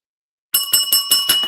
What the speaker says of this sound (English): I got some bells and things I ring.